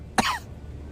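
A single short cough from a man, close and dry, in a tabletop horror role-playing session, ending quickly into quiet.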